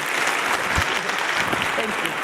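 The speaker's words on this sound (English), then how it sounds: "I think we need to give her another round of applause" A crowd claps steadily in a room, a dense wash of applause lasting a couple of seconds without pause.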